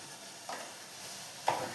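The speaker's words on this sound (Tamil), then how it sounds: "கடுகு பொரிக்கிட்டோம்." Mustard seeds crackle in hot oil for tempering before aubergine goes in, a soft steady sizzle broken by two sharp pops, the second louder, with no talking.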